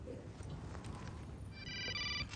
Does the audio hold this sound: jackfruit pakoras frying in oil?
no